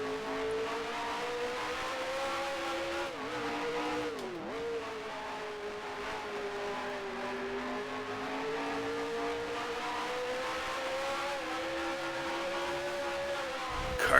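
Race car engine in the Grand Prix Legends video game holds a steady, loud drone through the whole stretch, with a brief dip and pitch drop near the start before climbing back to a sustained high-revving tone.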